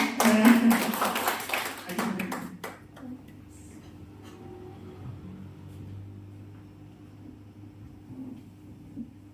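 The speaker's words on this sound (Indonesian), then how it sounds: "tepuk tangan dulu dong" A short burst of congregation clapping at a Pentecostal church service in Bandung, cheering a birthday, thick and loud for about two seconds before dropping into near silence with a low steady hum.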